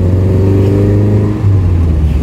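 Toyota Corolla KE30 engine revving close by, a loud continuous low rumble with a steady pitch and one brief dip before it picks back up.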